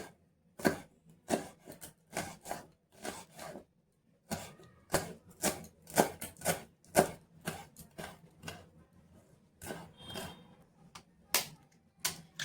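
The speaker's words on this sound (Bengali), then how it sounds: "তো এখানে কাঁচা লঙ্কা আর ধনেপাতা নিয়েছি। তো এগুলো একটু ছোট ছোট করে কুচি" Knife chopping green chillies and coriander leaves on a board, a series of sharp, close taps in quick bursts separated by brief pauses.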